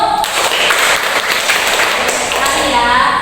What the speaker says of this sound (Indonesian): Terima kasih Adik Novi, tepuk tangan dulu.